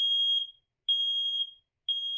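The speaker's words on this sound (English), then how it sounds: "Press to test. This is only a test. The alarm will sound. It's going to be loud." Smoke detector alarm sounding during a manual test, a loud piercing electronic tone in three evenly spaced half-second pulses separated by brief silences, with nothing else heard.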